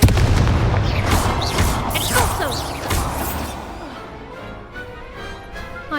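Explosive spell blasts from Hogwarts Legacy during a magic duel, a loud deep boom at the start followed by crackling bursts and sweeping whooshes that gradually die down into a lingering rumble.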